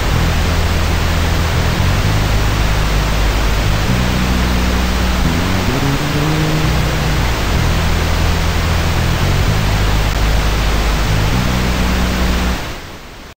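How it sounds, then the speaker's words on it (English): Loud, constant hiss of pink noise through an audio compressor, with a low pulsing bass line moving beneath it, then the sound cuts off near the end. "listen to what happens when I turn on the compressor"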